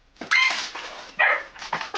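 Several dogs bark and yip indoors in a run-down seaside home, sharp repeated bursts close by, loud with short gaps between volleys and a few whimpering yips.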